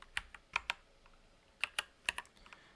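A computer keyboard clicks as code is typed, with sparse, irregular keystrokes in small clusters, close and fairly quiet.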